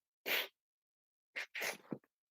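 One person sneezes, a sharp burst first and then a quick double sneeze a second later, close up and in an otherwise silent room.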